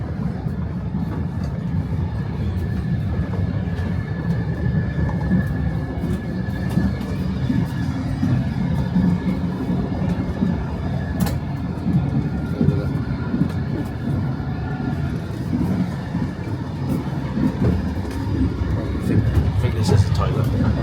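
An old Ukrainian passenger train rolls along with a continuous low rumble, the carriage rattling and creaking, plus scattered sharp clicks and knocks over the steady ride noise.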